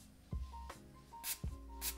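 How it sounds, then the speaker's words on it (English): An e.l.f. makeup primer spray nozzle gives two sharp hissing bursts, close and loud, with soft handling thumps before each spray. "So let me try to spray it even further."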